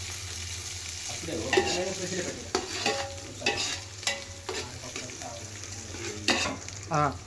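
Chicken curry with coriander and mint sizzles in a pan while a spoon stirs and scrapes against the metal, giving sharp repeated clinks over a steady frying hiss.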